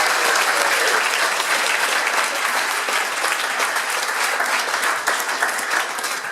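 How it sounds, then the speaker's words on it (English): Loud, dense audience applause fills the whole stretch at a startup weekend event in Riga, a steady wash of many hands clapping with no break. "let's give a huge round of applause for all that"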